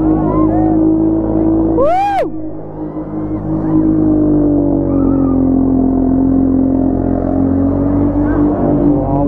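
Car engines rev loudly at a college auto expo showcasing Honda and BMW cars, a sustained throaty drone with a sharp rising whine partway through and faint crowd voices beneath.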